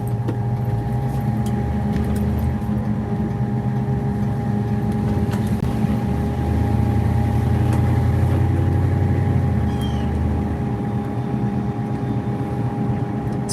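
A Mustang engine idles steadily after an idle speed adjustment, a constant low rumble with a steady hum, close and unbroken throughout.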